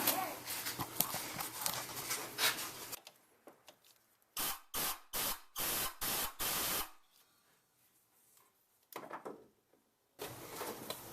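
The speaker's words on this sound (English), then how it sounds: "let me blow that with some shop air" Compressed shop air clearing debris from a spark plug well on a 2001 Dodge Dakota 4.7L engine: a long hiss, then a series of six short sharp blasts, a pause, and two more bursts.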